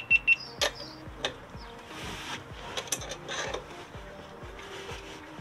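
A socket wrench works a battery bracket nut loose on a Peugeot Boxer van, giving a run of quick metallic ratchet clicks, sharper and denser at first, then an evenly spaced series of small clacks, close up with no talk.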